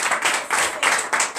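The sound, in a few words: congregation clapping and acclaiming the Lord in prayer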